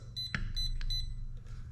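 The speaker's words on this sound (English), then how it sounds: "Once you hear the beep, that is for the neutral." The electronic speed controller of an RC10B radio-controlled car gives a quick series of short, high, clean beeps while its neutral point is set, heard close over a low background hum.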